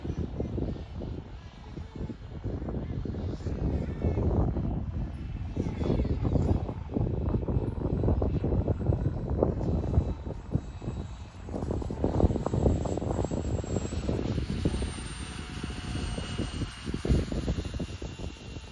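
A 3D-printed RC VTOL trainer jet modelled on the F-35B flies overhead outdoors, its ducted-fan whine and rushing roar steady and loud, with wind buffeting the microphone throughout.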